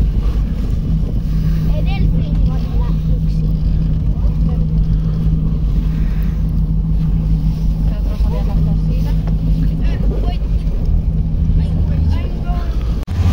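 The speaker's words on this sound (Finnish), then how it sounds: "Sitten veneen moottorit." Twin 2,750-horsepower Caterpillar V8 engines aboard a boat in Spain rumble with a steady low drone and wind noise, while people talk over it.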